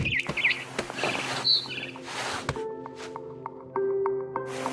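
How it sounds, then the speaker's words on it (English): A barn swallow in What Remains of Edith Finch chirps in a few quick, bright calls near the start. Soft game sounds and sustained musical tones follow. "Then I heard chirping outside my window. It was a barn swallow going back to her nest."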